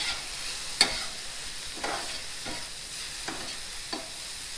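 Vegan tofu sausage sizzling in a pan as a teaspoon of maple syrup is stirred in, a soft continuous fry hiss with a sharp clack and several light spatula strokes spaced out.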